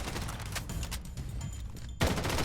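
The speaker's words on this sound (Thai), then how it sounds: "โอ้โหกูยิงมั่วเลยแล้วกัน" Rapid gunfire in a mobile shooter video game, dense bursts of shots running continuously, then a sharper louder blast near the end, all close and loud.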